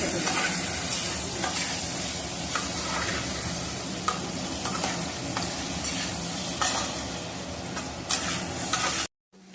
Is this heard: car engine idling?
no